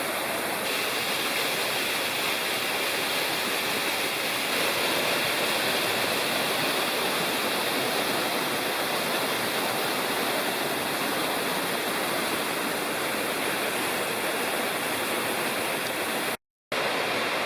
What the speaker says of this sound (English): You can't see it, but the waterfall is right down there.